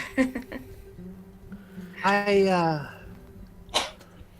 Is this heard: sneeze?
yes